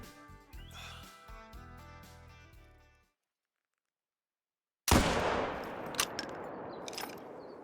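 A .577 black powder rifle fired in the hunting game Call of the Wild, a sudden loud boom after a silent pause, followed by rolling echoing reverberation; quieter ambient game sounds precede it.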